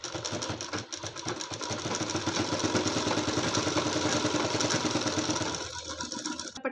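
Close, loud sewing machine attaching a fabric strip to a blouse neckline, its motor whirring in one steady continuous run that eases off near the end.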